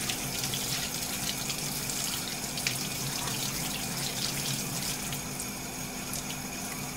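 Cold tap water runs steadily from a faucet as an action figure is held under it, a continuous even splashing rush without pause.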